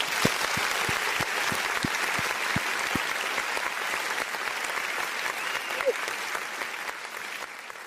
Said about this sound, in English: can we just give an applause real quick to Teran, man?